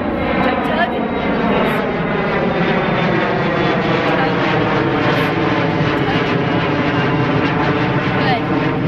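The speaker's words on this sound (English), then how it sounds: "Airplanes are overhead. So if they're loud, it's all good." Propeller aircraft passing overhead at an outdoor spot by Mission Bay, a loud continuous droning engine roar with slowly shifting pitch filling the whole stretch, steady and close rather than distant.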